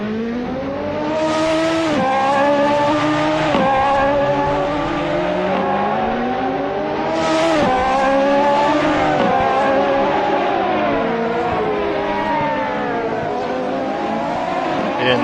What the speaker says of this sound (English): the guys now leaving pits area